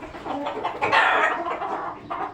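A three-month-old hen clucking nearby in a grassy yard, a few soft, irregular clucks rising to a louder burst in the middle, with no talk.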